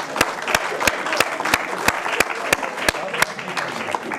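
Applause at a Greek cultural association event, crowd clapping under a series of sharp, evenly spaced rhythmic hits, giving a steady beat to the noise of hands.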